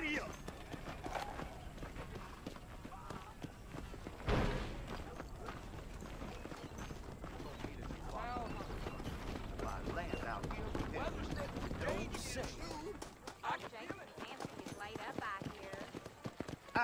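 Horse hooves clip-clopping at a run in the video game Red Dead Redemption, a faint rhythmic beat under game dialogue and ambient sound.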